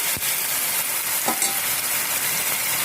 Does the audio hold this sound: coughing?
no